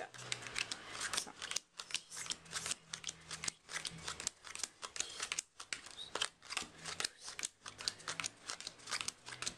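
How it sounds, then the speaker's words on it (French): Playing cards dealt one at a time into two piles of fifteen during a magic trick, giving a quick run of crisp snapping flicks close to the mic, with a few short pauses between bursts. "Vous en tant que magicien, vous allez faire deux paquets de 15 cartes."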